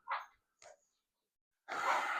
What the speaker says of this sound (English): Dogs never shut up.